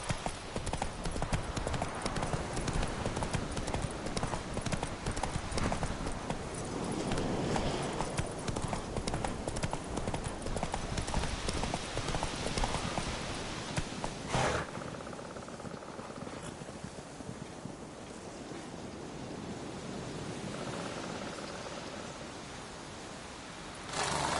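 Horse hooves clip-clop at a steady gallop through the open world of the video game The Witcher 3, loud and continuous for most of the stretch before easing to a quieter trot with ambient game sound.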